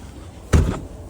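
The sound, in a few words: stiff truck door on an International Eagle being shut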